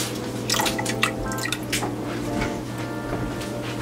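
Lime juice is squeezed by hand into a pot of homemade pineapple cough syrup. Several close, irregular wet drips and squishes sound over a low steady hum.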